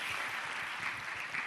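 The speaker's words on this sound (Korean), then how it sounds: "우리 살아계신 하나님께 감사와 찬양의 박수를 다시 한번 올려드리시겠습니다." Soft applause from a church congregation in praise during a worship service, an even, distant-sounding wash of clapping that stays quiet throughout.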